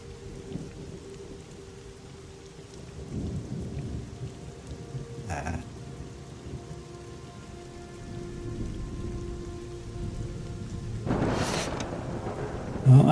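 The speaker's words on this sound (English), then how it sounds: "oh, I heard a bit of thunder there." Steady rain patters on a surface throughout, with a low rumble of thunder swelling in the background partway through and a brief louder burst near the end.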